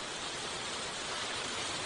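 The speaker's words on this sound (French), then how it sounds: "Il faisait beau et tout d'un coup, il pleut des cordes." A sudden heavy downpour in a French-dubbed cartoon, heard as a dense, unbroken roar of rain that stays loud and even throughout the short stretch, with no voices over it.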